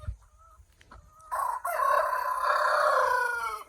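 A backyard flock of about fifteen chickens in the Philippines: faint scattered clucks, then a rooster's loud, drawn-out crow rings out close by and holds for about two seconds.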